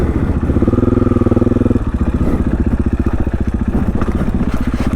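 A dirt bike engine on the Moab Cliffhanger Trail chugs nearby in a rapid, pulsing rhythm, holding a low throttle before dropping to an uneven idle that pops and clatters.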